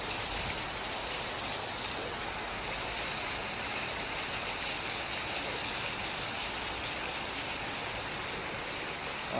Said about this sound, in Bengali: দেখেছো বন্ধু, খুব জোরে বৃষ্টি হচ্ছে বন্ধু।